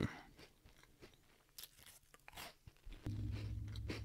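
Someone crunches and chews a Japanese cheese cracker close to the mic, with several sharp bites followed by softer mastication, quiet overall.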